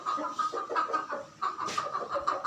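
Chickens cluck in rapid, close bursts, with a rooster calling to hens among them; the clucking is steady and near, and no one talks.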